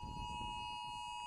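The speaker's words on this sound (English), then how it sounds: "as sirens go off around the state right now." Tsunami warning sirens sound across Hawaii, a sustained steady wailing tone holding one pitch, distant and moderately loud over a low rumbling background, with no voices.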